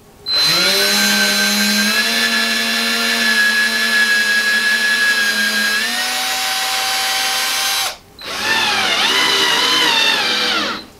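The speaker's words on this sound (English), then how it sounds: "drill the pilot holes, and then screw it in" A loud power drill whines steadily for several seconds drilling pilot holes in wood, stops briefly, then spins up again, close and continuous with no talking.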